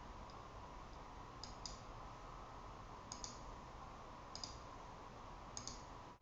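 Mouse clicks while using chip die design software, a few sharp, quiet single and double clicks spaced a second or more apart over a steady low hiss, with no talking.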